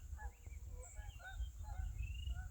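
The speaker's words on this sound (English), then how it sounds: "I hear some geese coming." A flock of geese honks overhead outdoors in a scatter of overlapping calls, moderately faint and distant, over a low background rumble.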